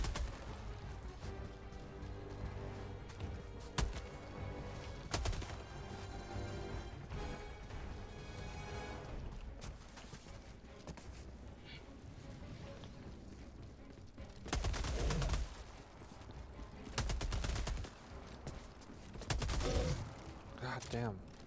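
Gunfire in Helldivers II, sustained rapid automatic bursts mixed with louder blasts and game noise, heard faintly under a player's voice.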